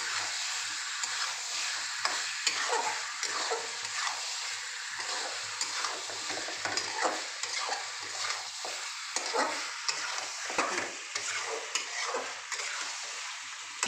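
Mutton for mutton kosha stir-fries in a pan with cashew, poppy seed and melon seed paste, a soft steady sizzle broken by repeated scraping and stirring strokes, fairly quiet with no voices.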